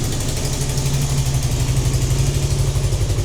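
A car engine ticks over at idle, loud and close, with a steady low throb and even rhythmic pulsing. The engine has been running for several minutes, still burning off oil and smoking from the exhaust.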